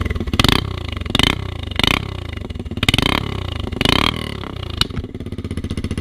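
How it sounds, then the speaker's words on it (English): A Suzuki DR 125 SM supermoto's exhaust blats through repeated throttle blips, each rev rising sharply then falling back to a lumpy idle, close and loud, with a sharp single pop near the end. "Moving on to the exhaust sound."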